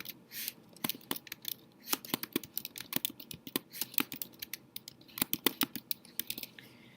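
Quick, irregular clicks of computer keys being typed, crisp and close, with brief pauses between bursts and no talking.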